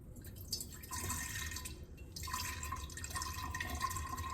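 Homemade cold brew coffee dripping slowly through a filter, heard up close as a quiet trickle and faint drips over a low hiss, with no voices.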